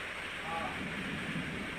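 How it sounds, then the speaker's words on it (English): Steady rain falls in a continuous, even wash of hiss close by, with no breaks or distinct drops standing out. "I'm loving these birds and enjoying the rainy sound."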